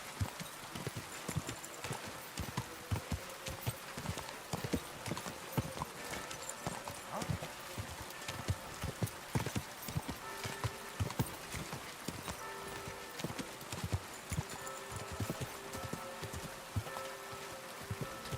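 Horse hooves clip-clop steadily in a video game as a rider travels on horseback, a continuous rhythmic patter of close footfalls over a busy background of ambient game sound.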